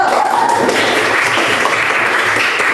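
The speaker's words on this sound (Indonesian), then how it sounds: "Jadi tepuk tangan untuk kelompok 1." Group of students clapping for a presenting discussion team in a classroom, a dense steady patter of many hands filling the room from start to finish at close range, with a few voices murmuring underneath.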